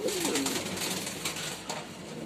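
Racing pigeons coo in a loft, a close, soft throaty call at the start followed by faint rustling and low ambient bird sounds, no talking.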